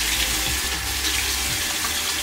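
Tap water runs steadily from a faucet into a sink during face washing with a gentle cleanser, a close, continuous hiss with no talking over it.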